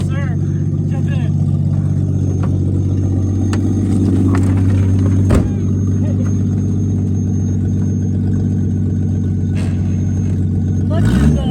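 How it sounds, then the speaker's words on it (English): An old Studebaker car drives with a steady, close engine rumble. Faint high squeals from the brakes run over it, with a sharp knock near the middle and talk at times. "All the brakes are squeaking."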